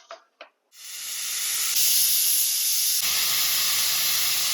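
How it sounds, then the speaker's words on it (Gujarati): A pressure cooker boiling dal gives off a loud, steady jet of steam hiss that starts suddenly after a brief moment of quiet and holds at close range without pause. "હવે દાળને કુકરને ઢાંકણ ઢાંકી અને દાળને બાફવા માટે ત્રણ થી ચાર સીટી વગાડી લેશું આપણે"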